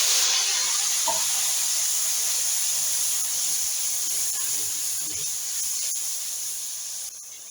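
A ground tomato and onion masala hits cumin in a hot pan, giving a continuous bright hiss and sizzle that fades slowly near the end, close up with no talking.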